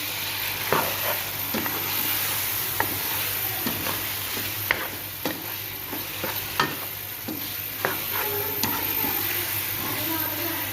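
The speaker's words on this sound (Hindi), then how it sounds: "चिकन को जो है बहुत अच्छे से हमने इसके अंदर भून लेना है।" Chicken sizzles and fries in a pot of oil for ghia chapni, a steady hiss broken by repeated sharp scraping knocks of a spoon stirring against the pot.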